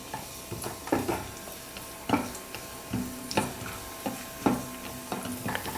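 Cashews and raisins fry in ghee for payasam, a soft close sizzle punctuated by regular spoon scrapes and taps against the pan about once a second.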